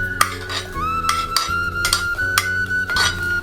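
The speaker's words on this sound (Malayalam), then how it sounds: "ചുവന്നുള്ളി നമുക്ക് ചട്ടിയിലേക്ക് ഇട്ട് കൊടുക്കാം." Shallots go into a clay curry pot while a prawn curry with roasted coconut is being made, giving a series of sharp clinks and knocks with a ringing tone at a steady rhythm, close and loud.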